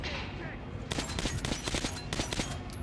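Rapid bursts of weapon fire on a firing range in the video game Metro Last Light, several quick volleys from about one second on with crackling impacts, fairly close and loud against a low ambient hum.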